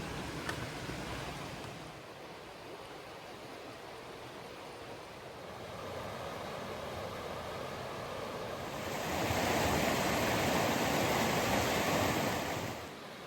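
The River Dove flowing through Wolfscote Dale in the Peak District, a steady broad rush of water that swells louder and brighter toward the end, with outdoor wind mixed in and no talk.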